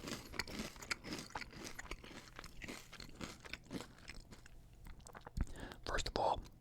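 Crunchy Burger King hash browns being bitten and chewed up close, with repeated crisp crunches and wet mouth sounds in an irregular rhythm, plus soft whispered breathing between bites.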